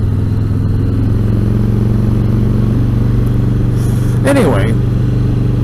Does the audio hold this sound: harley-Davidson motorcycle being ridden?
yes